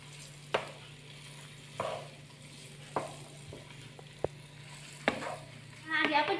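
Fried kwetiau noodles are stirred in a pan over a low, steady sizzle, with separate scraping knocks of the spatula about every second and a busier burst of frying near the end. No one speaks.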